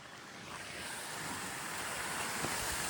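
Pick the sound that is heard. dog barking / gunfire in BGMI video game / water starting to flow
water starting to flow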